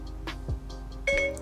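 A smartphone's Siri voice assistant chimes while a kitchen timer is being set during cookie baking: a short, clear electronic tone rises out of quiet room noise near the end.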